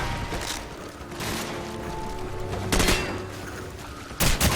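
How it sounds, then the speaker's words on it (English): Weapon fire in the video game Call of Duty 4 comes as clattering bursts of gunshots over a dense battle background. Sharper volleys stand out near the middle and again at the end. "The weapons sound appropriately devastating."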